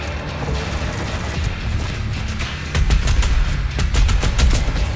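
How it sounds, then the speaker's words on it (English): Heavy cannon gunfire in DOOM Eternal rattles out as rapid, dense bursts of shots over a constant loud game din, growing heavier and punchier in the second half, with no talking. "I think I like this heavy cannon"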